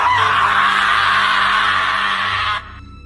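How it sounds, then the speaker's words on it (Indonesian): A scream sound effect in a narrated horror story: one long, loud, sustained shriek that holds steady for over two seconds and cuts off abruptly, followed by a faint low hum. "Tiba-tiba terdengar teriakan si Joko yang ada di teras."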